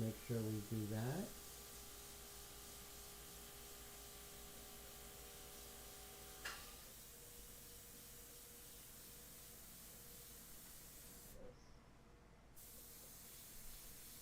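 An airbrush spraying ink while painting a full-colour fashion portrait gives a faint, steady hiss running continuously after a brief tonal sound at the start.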